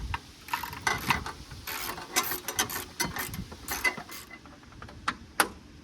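A ratchet drives a 10mm bolt below the headlight of a 1996-2002 third-generation Toyota 4Runner, making steady rapid pawl clicking in close, continuous runs over a faint background hum.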